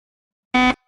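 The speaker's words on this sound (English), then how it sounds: "Buzzer." A single loud, harsh electronic game show buzzer lasting about a quarter second, followed by a faint, brief tonal tail.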